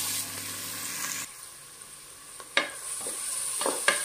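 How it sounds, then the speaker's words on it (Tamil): Onions sautéing in a hot pan, with a steady hiss and several sharp scraping stirs of a spoon against the pan. "வெங்காயத்தை சேர்த்து நல்லா வதக்குங்க."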